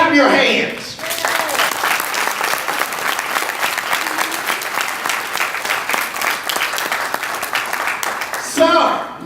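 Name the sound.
audience clapping hands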